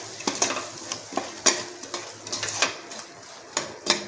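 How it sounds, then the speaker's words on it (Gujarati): A spoon scrapes and taps around a pan while a thick gram-flour (besan) gravy with fresh cream is mixed, giving irregular clinks and soft stirring strokes over a faint sizzle, close up, with no voices. "હવે આપણે બધું મિક્સ કરી લઈશું।"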